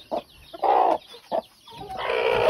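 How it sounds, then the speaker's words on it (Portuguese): A hen squawks in short, loud bursts, a few sharp clucks followed by a longer agitated cry, close by. "A galinha vai gritar um pouco"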